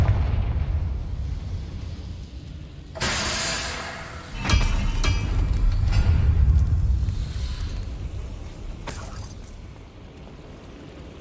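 A Confringo fire spell blasts in Hogwarts Legacy as a sharp explosive burst followed by a second heavier boom. A rumbling, crackling tail and a later bright crack sound over continuous game ambience.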